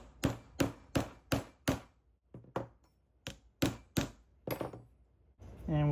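Sharp wooden taps as bolts are driven into wood along the grain with a block underneath, about a dozen close, evenly spaced knocks with brief pauses, ending in a short burst of voice.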